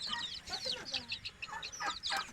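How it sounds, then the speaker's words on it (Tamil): Rapid high-pitched peeping and soft clucking from several young chickens nearby, busy and continuous, with no talking. "இங்க பாருங்க கோழி குஞ்சு,"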